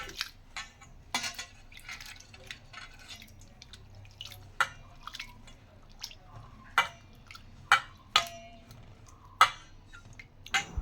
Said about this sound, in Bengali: ভালো করে ধুয়ে ভিজিয়ে রাখি।